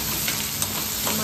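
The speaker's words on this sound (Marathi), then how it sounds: "2 कांदे कापून टाकले. फ्राय झालं" Chopped onions fry in a pan with a steady, close crackling sizzle that holds evenly through the short moment, with no voices.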